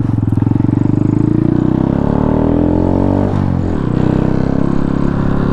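Small motorcycle engine, a Kawasaki Z125 or Honda Grom, pop-started by clutch: a loud, close, rapid idle putter that rises and falls in pitch as it catches and settles, with no talking.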